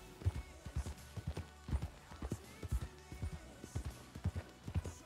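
Horse hooves clip-clop in a steady, close rhythm while a horse walks in a Western role-play video game, with no talk over the repeated hoofbeats.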